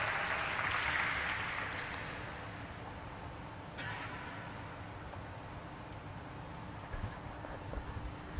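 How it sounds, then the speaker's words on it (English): An audience at a company stock listing ceremony claps in a burst of applause that is strongest at first, then gradually fades into scattered clapping and room murmur, heard faintly and at a distance. "Let's once again welcome him on stage with a round of applause."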